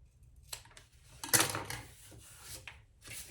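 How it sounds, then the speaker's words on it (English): Scissors trim excess fabric from a freshly stitched slip pocket on a sewn tote bag, giving a few quiet, close snips and soft rustles spread over a few seconds, with no talking. "if there's any excess, just cut that off"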